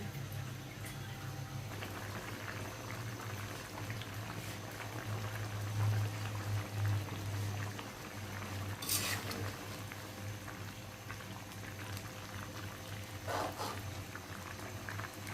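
Fish curry with tomato and broth simmers in a pot over a low gas flame, giving steady, soft bubbling throughout with a few faint clinks of utensils.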